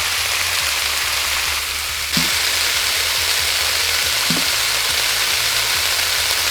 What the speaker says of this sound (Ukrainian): Дивись, а це зажарочка пішла